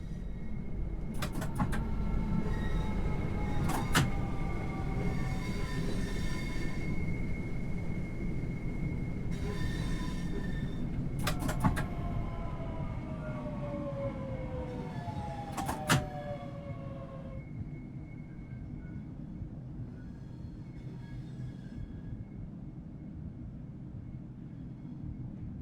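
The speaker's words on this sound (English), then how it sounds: "Begin applying a small amount of braking force to bring the train to a gentle stop." A Southeastern high-speed train in Train Sim World 3 brakes to a gentle stop at a station. Rumbling wheels run beneath repeated high squealing tones and brief brake hisses, and the noise slowly settles as the train halts.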